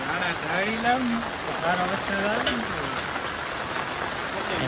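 Steady rain falls in a Botad village in Gujarat, a dense even patter of drops on surfaces continuing throughout, with a voice speaking over it.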